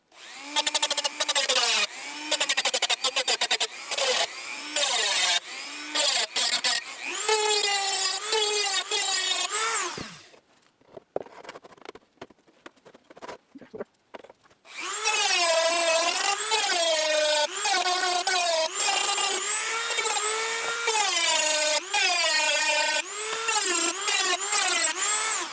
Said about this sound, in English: So I need to grind that down a little bit, I think on both sides.